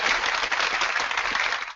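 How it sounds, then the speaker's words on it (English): A round of applause from a small group, dense steady clapping that fills the whole short burst and then cuts off abruptly. "Give yourself a round of applause"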